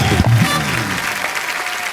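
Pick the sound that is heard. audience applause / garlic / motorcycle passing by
audience applause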